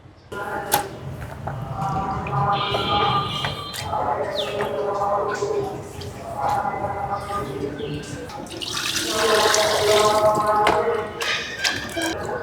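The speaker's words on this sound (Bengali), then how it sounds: "দুই একবার এখানে ধুবো, তারপরে খাদার মধ্যে নিয়ে যায় আপনাদের আড়ালে ভালো করে ধুয়ে নিতে হবে" Boal fish, a large river catfish, being washed in water makes splashing and trickling sounds with clinks and knocks, with louder sloshing near the end.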